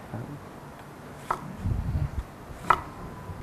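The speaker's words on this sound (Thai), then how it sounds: "แตงกวานะครับ ก็ ซอย หั่นฉลิง หั่นเฉลีงแบบนี้นะฮะครับบางๆนะฮะ" Knife thinly slicing a cucumber on a cutting board while a salad is prepared: a few soft, scattered cuts with quiet board knocks and a brief muffled rustle, faint and alone.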